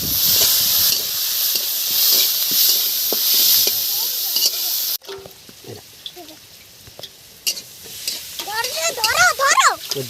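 Chopped onion and black cumin seeds sizzle and hiss loudly in hot oil, then the frying drops to a softer crackle under stirring and a voice, with sharp pops near the end.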